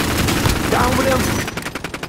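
Rapid automatic gunfire from Call of Duty: Warzone rattles loud and close in dense bursts, thinning into a few separate shots at the end.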